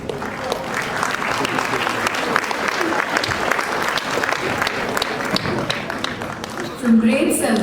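Audience applause at a school's annual prize distribution function, steady, fairly close clapping from a crowd with some voices audible underneath.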